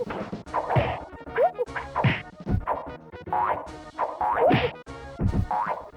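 Cartoonish fighting-game effects from Clay Fighter on the Super Nintendo: a rapid run of loud whacks, thwacks and springy boings with short swishes, repeating in quick bursts with no talking.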